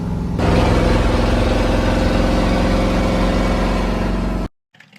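A 1986 Chevrolet C30 one-ton dually truck engine running steadily, a loud, close, low rumbling drone that holds for several seconds before cutting off abruptly into near silence.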